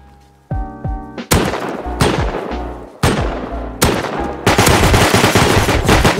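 Loud, close gunshots from a Python revolver in a video game. Several sharp, ringing blasts come one after another, with a quieter tonal passage before the first shot and a dense burst near the end.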